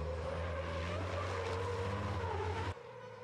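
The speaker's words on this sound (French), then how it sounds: "Et Norbert Kiss qui nous offre de belles glissades." A race truck slides and skids on the Zolder circuit during the 2021 European truck racing championship, a loud continuous engine roar with tire scrub that cuts off abruptly near the end.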